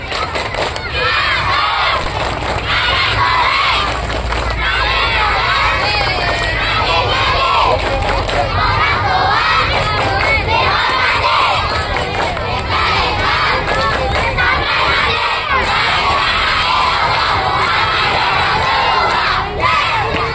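Schoolchildren at an elementary school Maulid Nabi celebration clap and chant the tepuk anak soleh in loud unison, a dense, energetic crowd of young voices with rhythmic clapping throughout.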